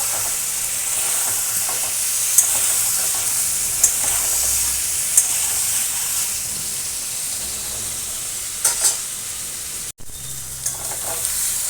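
Salt and turmeric are stirred into a sizzling pan of spiced hilsa fish curry with potatoes. A constant frying hiss runs throughout, with a few sharp clinks of the utensil against the pan and a brief break near the end.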